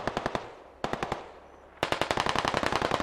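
Machine-gun fire in the military shooter game Squad: three loud rapid bursts of automatic shots, separated by short pauses, the last burst longest and sustained.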